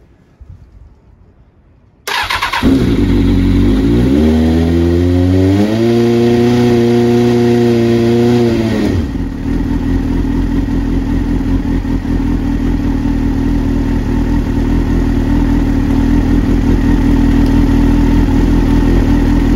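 A 2001 Kawasaki ZX6R J2 motorcycle cranks and fires after a few seconds of quiet, with choke applied, revs rising and dipping briefly before settling into a loud, steady, close idle that runs on alone.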